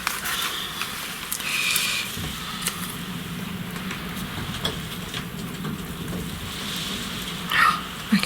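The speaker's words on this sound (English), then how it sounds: "I can hear that rain now." Steady rain falls outside, a soft continuous hiss with occasional louder patters, heard from indoors at moderate distance while small handling noises occur nearby.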